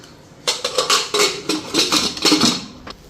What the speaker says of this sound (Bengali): প্রেশার কুকারে ঢাকনাটা লাগাই দিই